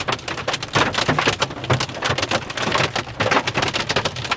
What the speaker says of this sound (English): it's small hail now and it's an onslaught